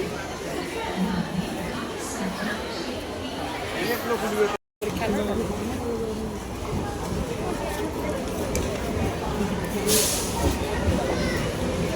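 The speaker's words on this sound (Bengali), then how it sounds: "এইমাত্র আমাদের যে ট্রেন সেটা প্ল্যাটফর্মে প্রবেশ করছে এবং দেখতেই পাচ্ছ কতটা ভিড়।" A local train rolls into a crowded station platform on the Berhampore Court to Krishnanagar line. A steady broadband rumble sits under thick crowd chatter and babble throughout, with a brief cut midway.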